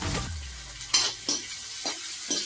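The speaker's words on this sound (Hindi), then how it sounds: "इसे भी हम अच्छे से थोड़ा सा फ्राई होने के लिए ऐसे ही 1 मिनट के लिए इसे फ्राई करेंगे।" A spoon scrapes through turmeric, coriander powder and chilli sauce frying for potato bhaji, giving four or five distinct stirring strokes over a soft, close sizzle.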